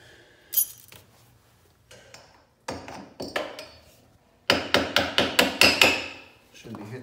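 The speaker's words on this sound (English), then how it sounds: "Shouldn't be hitting that with the mallet, but I don't care right now" A mallet strikes a part on the engine of a Raptor 80 motorcycle during a teardown. Scattered single knocks come first, then a quick run of about seven loud, sharp metallic hits, close up with no talking.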